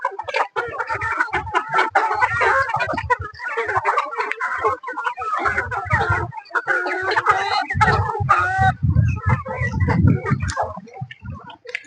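Four-month-old chickens in a flock of about 500 in a compound cluck steadily and overlap one another, with the odd louder squawk. A person talks intermittently underneath.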